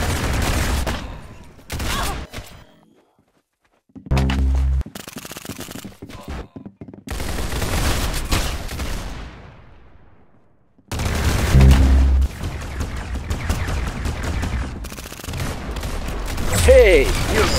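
Bursts of gunfire from the video game Arsenal: loud volleys and rapid multi-shot fusillades separated by short silences, with booming impacts and game noise between them.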